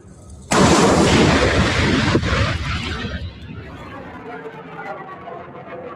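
THAAD air defense system launching an interceptor against ballistic missiles: a sudden loud, broadband roaring blast that holds for a few seconds, then trails off into a fading rumble as background chatter continues.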